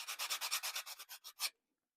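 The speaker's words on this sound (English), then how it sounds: "I'm just taking my sanding block and knocking it back a little bit" A sanding block rubbing back and forth over dried modeling paste on a miniature adobe train depot model, about ten quick rhythmic rasping strokes close up, then sudden silence.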